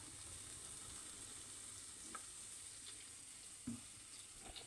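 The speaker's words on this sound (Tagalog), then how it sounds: "Igisa-gisahin lang natin to. Lagyan ng sesame oil." Tanghon noodles being sautéed with sesame oil, a very faint steady sizzle with a few soft stirring clicks and one brief scrape, no talking.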